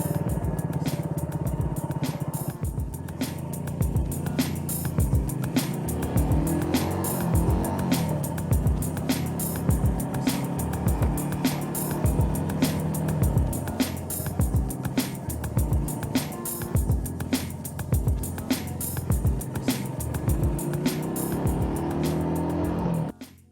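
A car being driven, with a continuous engine and road drone over a long stretch and regular clicks and bumps throughout.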